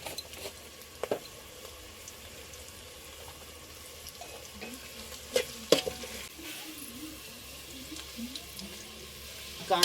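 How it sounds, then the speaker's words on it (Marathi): Salted onions fry in a pan over a wood-fired stove with a soft sizzle. Scattered stirring clatter and a few louder knocks sound close by, and a faint voice can be heard. "कांदा मस्त पैकी भाजून झालेला आहे."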